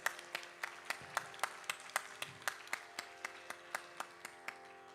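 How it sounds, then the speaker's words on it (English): An audience at a live Bharatanatyam arangetram dance recital claps in a quiet, fairly distant room, a single person's sharp claps repeating at a steady rhythm with only faint scattered clapping from others. "I think they deserve another round of applause"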